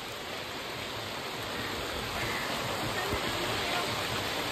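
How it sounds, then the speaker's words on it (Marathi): Heavy rain pours down steadily at Bhatsa dam, a dense continuous hiss that swells slightly louder toward the end, with no gaps. "तुझा ही बघा जोरात पाऊस आला"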